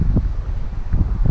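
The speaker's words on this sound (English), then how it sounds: "It's a little windy, which makes this tough" Low, gusty rumble of wind buffeting the microphone outdoors in the Everglades, with irregular muffled thumps and no voices.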